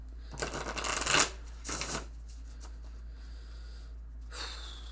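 Tarot cards shuffled by hand in two quick bursts of riffling and sliding, close and crisp, followed by quiet and a faint rustle near the end.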